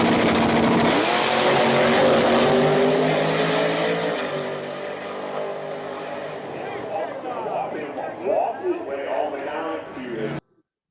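Nitrous drag race car with a 588 cubic inch engine accelerating down the strip, a loud roaring engine blast that fades as the car pulls away, with spectators talking over the fading sound.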